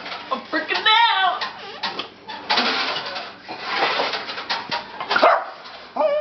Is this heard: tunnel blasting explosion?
no